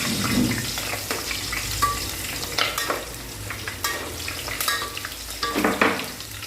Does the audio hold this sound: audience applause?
no